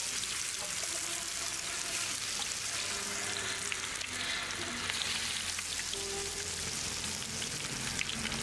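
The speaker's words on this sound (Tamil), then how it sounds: "இந்த மசால் தடவுனதை எண்ணெயில் போட போகிறோம்." Masala-coated fish frying in hot oil, a dense continuous crackling sizzle like rain, steady and close with no pauses, no voices.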